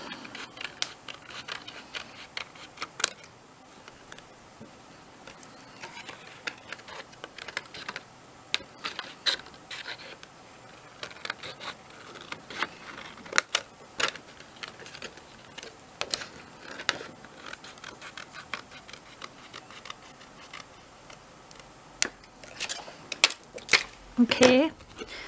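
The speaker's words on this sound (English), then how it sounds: "So I'm just going to really cut mine round with the scissors." Scissors cut around a piece of acetate in short, uneven bursts of crisp snips and rustles, close by, with quiet gaps between them.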